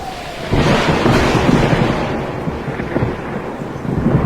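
Loud, close thunder breaks in and rolls on over a steady roar of heavy rain in a village, with no talking.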